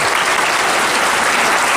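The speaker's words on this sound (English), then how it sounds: "let's give a big round of applause" A crowd claps loudly and continuously, dense applause filling the room for a short burst.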